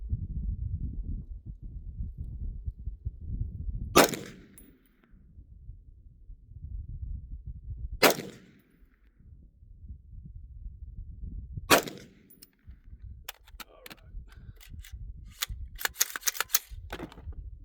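Three sharp AR rifle shots ring out at an outdoor target range, spaced about four seconds apart over a low steady rumble, followed by a scatter of lighter clicks and rattles.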